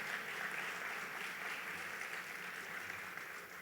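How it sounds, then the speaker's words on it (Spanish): Audience applause during a church sermon, a continuous, fairly soft wash of many hands clapping, heard from a distance and holding steady for a few seconds. "Dale fuerte ese aplauso"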